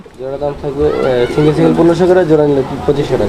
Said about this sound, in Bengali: এটা একটা ঘররা কবুতর এটা কি নন্না মাদি ভাই এটা নরকবুতরটা